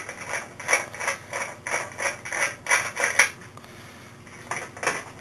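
Nut driver unscrewing the mounting nut of a fluorescent light ballast: a rapid series of close, bright metallic ratcheting clicks in short bursts, with a brief pause near the end, no speech.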